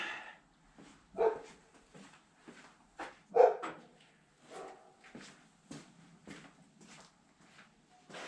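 A dog barks several times at a distance, short yaps spaced irregularly over a quiet background, fairly faint.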